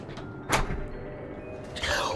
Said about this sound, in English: Doors are always loud when you're trying to be quiet.